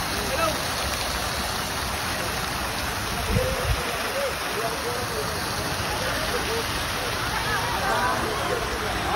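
Water fountain at the Petronas Twin Towers at night, a steady broad rush of falling and splashing water close by, with a faint voice in the background.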